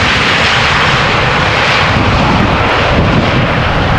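Airbus A320 airliner at Amsterdam Schiphol Airport, a steady loud broadband jet roar that holds fairly even throughout, heard alone with no talk.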